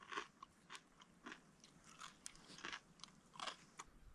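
Someone outdoors at a bush campsite chews a crunchy pancake, giving close, repeated crisp bites and crunches in an irregular rhythm, with no talking.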